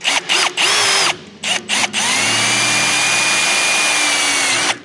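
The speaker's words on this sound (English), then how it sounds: "I'm going to start with a smaller drill bit and hope we don't walk with the drill" A power drill with a small bit whines in a few short bursts, then runs steadily for several seconds at close range drilling a hole to mount an awning, loud and high-pitched.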